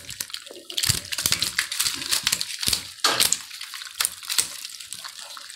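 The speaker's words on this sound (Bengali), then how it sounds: "একটু পানি ছিটছে" Water splashes and sloshes in a fish-farming tank holding tilapia and koi, in repeated irregular bursts of sharp spattering close by, with quieter trickling between them.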